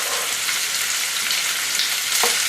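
Sausage and onion sizzle steadily in preheated olive oil for lasagna, a continuous bright frying hiss with a brief louder crackle near the end and no talking.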